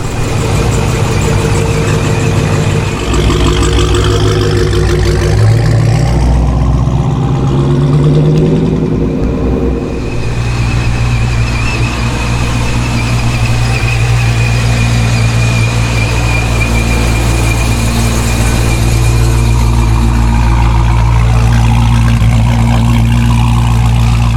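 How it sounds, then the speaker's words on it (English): A Scatpack car fitted with an F1A94 Procharger supercharger and an HP90 swap runs close by, with a loud, steady engine drone, a rising rev partway through and a sustained blower whine over it, with no voices. "I like the way this blower sounds a lot better than the other one."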